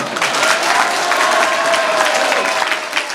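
Strong audience applause at a motivational talk, dense sustained clapping from a large crowd that stays loud and steady throughout, with voices faintly mixed in.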